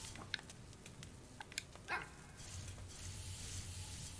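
A dog in the video game HeartZ gives a few short, sharp barks and yips spread across the clip, set against a steady low game hum and hiss, moderately close and fairly faint.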